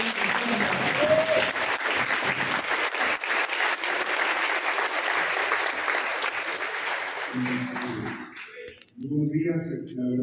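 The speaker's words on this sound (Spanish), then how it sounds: "Fuerte el aplauso" An audience at an academic event breaks into sustained, dense applause that holds strong for several seconds, then tapers off as a voice begins speaking over the fading claps.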